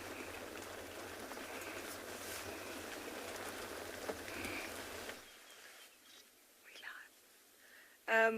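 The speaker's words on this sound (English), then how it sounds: "Well, I'm gonna get out of this rain, hopefully" At a safari game reserve, rain falls as a steady, soft patter under a whispered voice, then cuts off abruptly, leaving quiet with faint noises and a brief loud burst at the end.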